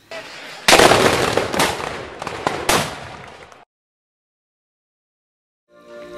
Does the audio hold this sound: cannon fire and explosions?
yes